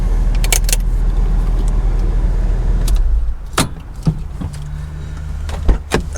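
A Porsche Boxster with newly replaced brakes and fresh brake fluid runs loud and steady at first, then drops quieter after three seconds, leaving scattered clicks, knocks and door-like thumps.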